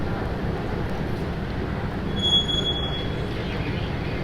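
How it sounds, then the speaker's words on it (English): A London Underground train arriving at a deep platform, a steady loud broadband rumble throughout with a brief faint high squeal of wheels near the middle. "I know I usually take the train alone, but guys, these underground trains"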